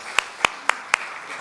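Four sharp, evenly spaced claps ring out close and crisp in an indoor hall, each one separate rather than blending into a full burst of applause.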